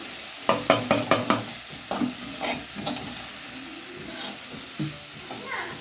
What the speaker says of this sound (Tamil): தக்காளி நல்லா வதங்கிடுச்சு.